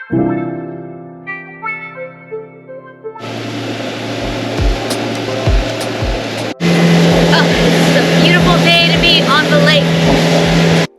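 Motorboat engine running on Lake Atitlán during a private boat tour, a loud steady drone that takes over after a quieter musical opening and grows louder partway through, with a voice speaking briefly over the engine noise.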